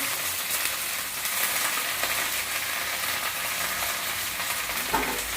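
Onion and leafy greens sauté in a pan with a loud, unbroken crackling sizzle, close up and steady, and a faint scrape of stirring near the end.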